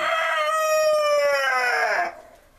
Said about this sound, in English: he is the second highest ranking rooster in the flock